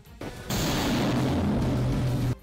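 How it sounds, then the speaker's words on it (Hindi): A shoulder-fired rocket launches toward the Azovstal steel plant, a sudden loud roaring blast that holds as a harsh, sustained rush for nearly two seconds before cutting off. "एक दूसरे लड़के ने अपने कंधे पर रखे लॉन्चर से एक रॉकेट स्टील प्लांट की तरफ दाग दिया।"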